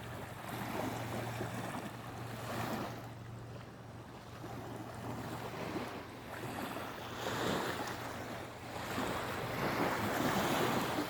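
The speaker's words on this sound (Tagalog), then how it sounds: "This is Dead Sea." Waves and wind at the Dead Sea, a steady broadband wash of surf with gusting wind buffeting the microphone, rising and falling in slow surges, and no voices.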